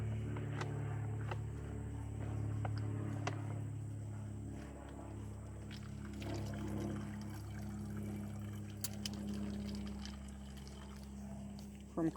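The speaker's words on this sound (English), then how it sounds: "From creek through filter and ready to drink." Creek water is poured through a backpacking water filter into a bottle in the Sipsey Wilderness, a faint trickle beneath a low, steady hum with a few small clicks.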